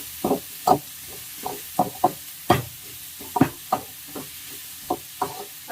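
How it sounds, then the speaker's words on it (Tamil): Large onions with rock salt being sautéed in a pan for a Tamil fish curry, heard as a steady series of distinct scraping stirs and knocks against the pan, fairly close, roughly a dozen strokes with no talking. "கல்லுப்பு போட்டு நான் வதக்கிக்கிறேன் வெங்காயத்தை"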